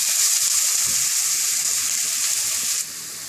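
Onions sautéing in a pan for a green curry, giving a steady, close hiss of frying that holds level and then softens slightly near the end, with no voices.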